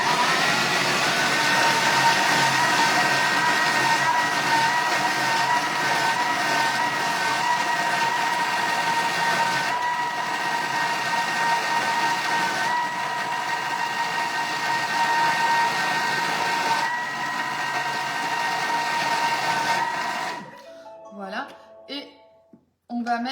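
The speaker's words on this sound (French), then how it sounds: "On va mixer du coup maintenant 20 secondes en vitesse 6." A Thermomix food processor blends a sweet spread at speed 6, giving a steady, loud, close motor whir with a tonal hum. It runs for about twenty seconds, then winds down and stops with a few clatters.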